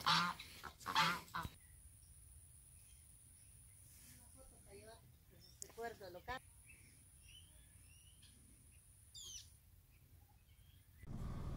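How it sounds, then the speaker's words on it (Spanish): Geese honk loudly at the start, then fainter honks and calls come in scattered bursts over a quiet outdoor background. "Están los gansos."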